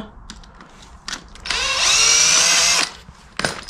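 A power drill on an engine backs a screw out in one steady whir lasting just over a second, loud and close, with short tool clicks and handling noises before and after it.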